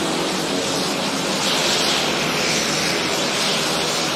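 A small plane's engine drones steadily and loudly while taxiing on the runway at Lukla Airport, Nepal, a constant propeller roar with no pauses, close by.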